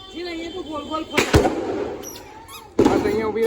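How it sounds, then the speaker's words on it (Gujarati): Diwali firecrackers bursting outdoors: two sharp, loud bangs about a second and a half apart, each with a crackling tail, while people talk and a voice carries through. "સોનું ફટાકડા ફોડે છે"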